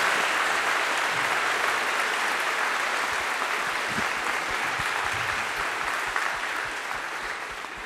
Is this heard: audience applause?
yes